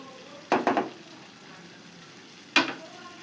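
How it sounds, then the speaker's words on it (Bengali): Spice masala for egg korma frying in oil as it is stirred, with three loud scraping sizzle bursts, two close together near the start and one later, over a soft steady background hiss. No voices. "এখন উপরে তেল ভেসে ওঠা পর্যন্ত আমার এটাকে কষাতে হবে।"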